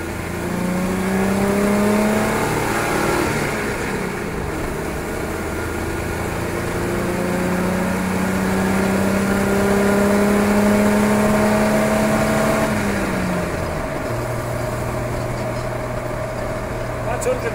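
A car fitted with a GM 110 V6 Vortec engine, on its first run, accelerates loudly through several rising and falling engine pitches as it changes gear, a close, continuous drone with a voice audible at times.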